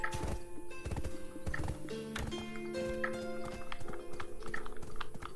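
Horse hooves clip-clop steadily in the Black Desert video game, loud and continuous, with repeated neighs and whinnies breaking through the rhythmic hoofbeats and no voices.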